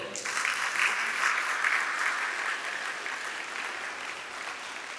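A church congregation at a Sunday service bursts into loud, sustained applause and cheering, a dense wash of clapping that holds steady for several seconds before easing slightly.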